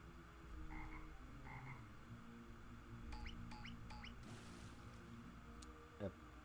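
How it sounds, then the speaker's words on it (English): Frog croaking in a horror RPG game, heard as a few short, moderately loud croaks over a steady game soundtrack, with chirpy sound effects around them. "A frog?"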